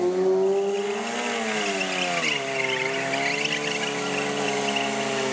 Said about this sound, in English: Look at that standstill burnout. No feet on the ground.